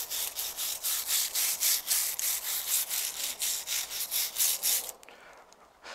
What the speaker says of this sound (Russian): сейчас продемонстрирую немного, как мы зачищаем с помощью щетки кору на этом дереве